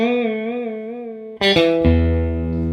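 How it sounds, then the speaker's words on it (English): A sustained electric guitar note bends up a whole step in a blues lick, then a brighter chord rings out and decays with some effects-laden sustain. "You're just sort of rocking the guitar. You're bending it a whole step."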